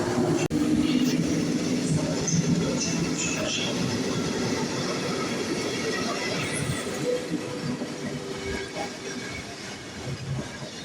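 A passenger train rolls through Kraków Główny station with steady rumbling wheel noise, clicking over rail joints and occasional faint squeals, heard from the platform at moderate distance.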